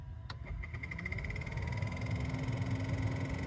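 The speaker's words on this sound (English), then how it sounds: "So go ahead and turn the blower on." Rear auxiliary blower motor of a Chevrolet Express van runs with a steady, moderately faint whir and a constant whine that settles in after a brief click at the start.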